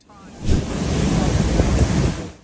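Roaring rush of wind and ocean surf during a sudden storm, a loud broadband wash that swells in and holds steady.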